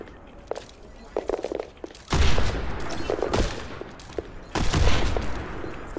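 Gunfire in a video game, short clusters of shots followed by two loud heavy bursts of rapid fire, punchy and close, with no talk over it.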